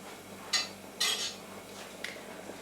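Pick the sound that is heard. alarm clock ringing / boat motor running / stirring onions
stirring onions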